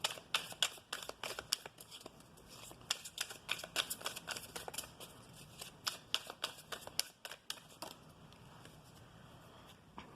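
Oracle cards shuffled by hand, rapid papery riffles and flicks in quick, uneven bursts, close and fairly quiet, with no talking over them.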